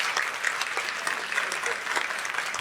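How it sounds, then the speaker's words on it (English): Audience at a health care panel event applauding, dense continuous clapping from a room full of people, fairly faint and steady throughout. "Give them a round of applause,"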